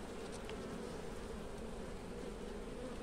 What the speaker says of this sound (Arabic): ادي برواز النحل اهيت